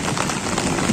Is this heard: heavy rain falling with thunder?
yes